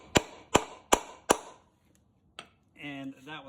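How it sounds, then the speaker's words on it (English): A hammer taps a fastener into a carpeted wooden trailer bunk with four sharp, evenly spaced strikes close by. A pause and a lighter knock follow, and then a voice starts talking. "just taking my hammer and then just hammering it"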